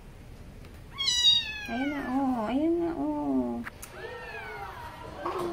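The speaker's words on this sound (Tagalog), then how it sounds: "Ngayon lang tayo magkaroon ng itim na pusa, di ba?" A black kitten meows repeatedly and loudly at close range, a run of long, wavering cries with short breaks, while a person speaks briefly in between.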